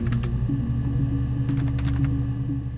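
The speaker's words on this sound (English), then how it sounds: "As you type words into Her Story search bar, you can hear the sounds of old clacky computer keys" Old clacky computer keys typing into a search bar in the video game Her Story, a steady run of close keystrokes over a humming, buzzing background.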